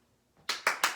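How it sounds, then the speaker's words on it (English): Several sharp hand claps in quick succession, about four, loud and close, following a brief quiet moment while a ball is tossed into the air. "you can throw it up, clap as many times as you can."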